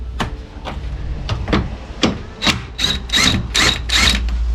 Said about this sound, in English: Got this new DeWalt impact wrench, which literally, it's a beast.